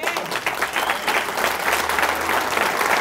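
Church congregation applauding during a sermon, a continuous, even wash of many hands clapping at moderate loudness with a faint low hum beneath.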